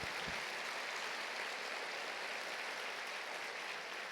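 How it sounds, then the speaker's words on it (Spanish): A church congregation applauding during a sermon, a dense, steady wash of clapping that stays even and continuous throughout, with no voices standing out. "dale más fuerte ese aplauso a Él."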